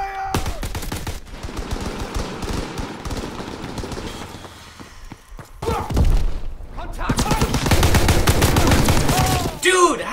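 Gunfire and explosions from Call of Duty WWII multiplayer, with bursts of rapid shots and heavy thuds filling the mix, loud and continuous, while a player talks over the battle.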